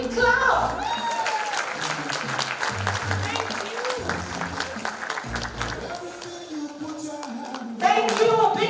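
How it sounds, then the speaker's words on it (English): An audience at a live event on teen pregnancies in Kenya claps steadily, a sustained dense round of applause with some voices and music mixed underneath, rising again at the end. "A big clap."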